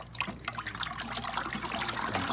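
Watery ceramic glaze, its powder settled under a watery layer, stirred in a bucket; a continuous sloshing, trickling churn close by, steady throughout with no talk.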